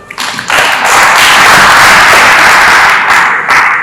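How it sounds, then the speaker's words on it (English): An audience at a stakeholders' retreat claps hands together, a loud, dense burst that swells quickly and holds steady before tapering slightly at the end. "Can you clap your hands?"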